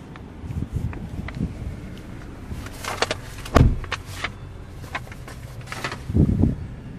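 Power windows on a 2014 Dodge Dart GT whir up and down in short electric motor runs, interspersed with soft clicks and a thud from the car's interior, fairly close and with no voices.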